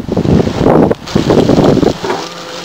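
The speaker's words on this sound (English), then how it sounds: "Wow, it's getting windy, isn't it" Loud, gusty, cold wind buffets the microphone at a tent campsite in rough bursts, easing briefly near the middle before blowing hard again.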